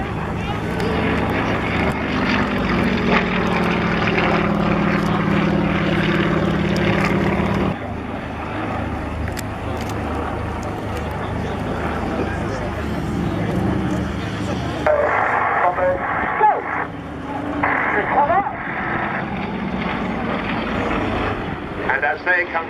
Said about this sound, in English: This is a plane loop.